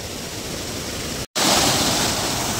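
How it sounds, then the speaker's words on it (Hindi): Chunni Dari waterfall near Chunar, Mirzapur, roars as a dense, steady rush of falling water, loud and close, with a brief dropout midway and no voices. "दोस्तों ये हम आ गए हैं झरने के पास"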